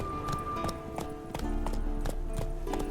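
Horse hooves clip-clopping in The Witcher 3 video game, a steady run of close, distinct hoofbeats over a low ambient bed, with faint music tones and no voices.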